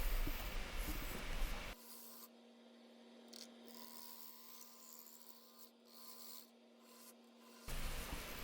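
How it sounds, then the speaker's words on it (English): A Carter & Son bowl gouge hollows out a dry, punky cherry bowl on a wood lathe, giving a steady soft rasping scrape over a low motor hum for several seconds, bracketed by louder passages at the start and end. "I'm using the Carter & Son bowl gouge here"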